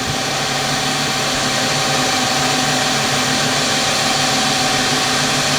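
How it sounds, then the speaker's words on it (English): A wood lathe running at high speed, around 1200 RPM, during resin and wood pendant turning, giving a loud, steady motor whine and hum that holds constant throughout with no talking. "I'm going to speed the lathe up now."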